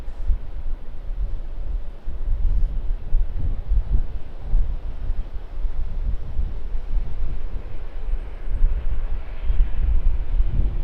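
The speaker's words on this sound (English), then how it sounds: "It's Jetstar Airways Airbus A380." Jetstar Airways Airbus A380 airliner coming in to land on runway 16 left at Sydney Airport: a low, distant engine rumble with gusty wind buffeting the microphone, continuous and unbroken, with no voices.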